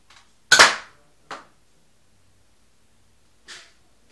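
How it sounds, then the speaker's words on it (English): A Nerf toy gun fitted with a laser sight fires three sharp, snappy pops in a quiet room. The first shot is loudest, followed by a softer one about a second later and a third after a longer pause. "First gun, shooting test."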